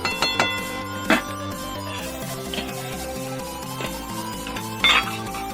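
Cooked dal goes into a pot and gets stirred, with a few sharp metal clanks and scrapes of a utensil against the vessel over a humming background, no talk.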